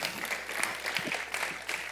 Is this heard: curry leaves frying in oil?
no